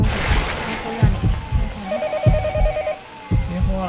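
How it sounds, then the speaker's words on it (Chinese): Telephone ringing in the horror video game Yomawari on Switch, a repeating electronic ring in short bursts heard under footsteps and in-game noises. "那有电话。"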